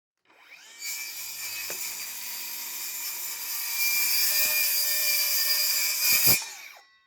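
A cordless Worx circular saw cuts through wood with a loud, sustained whine lasting about six seconds, then spins down quickly once the cut is finished.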